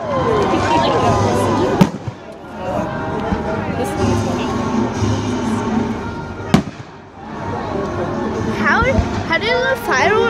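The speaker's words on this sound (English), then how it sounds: "How did the fireworks pop though?" Fireworks burst in two sharp, loud bangs several seconds apart over a steady rumble of crackling and distant pops at a Fourth of July display, with a crowd murmuring and people talking throughout.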